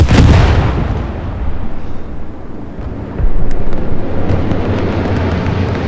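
Heavy machine gun fire and distant blasts in the World War II shooter Hell Let Loose, a loud rumbling barrage with wind-like roar, continuous with a sharper burst partway through.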